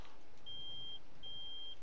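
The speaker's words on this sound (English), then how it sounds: "I didn't notice that beep before" Two steady electronic beeps, each about half a second long and evenly spaced, sound from a machine in Farming Simulator 22 over a soft low rumble of game ambience.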